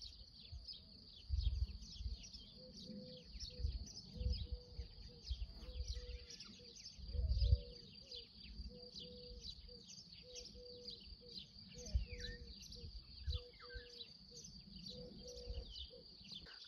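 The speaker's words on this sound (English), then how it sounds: "So much bird life on the farm." Wild birds sing continuously on an off-grid farm, with high thin trills and a repeating mid-pitched call over low rumbles and faint background movement.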